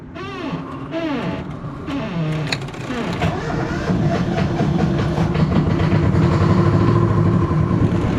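The diesel engine of a sailboat cranks and catches, settling into a steady, loud, close chugging idle that grows stronger toward the end, with a few brief tonal sounds before it fires.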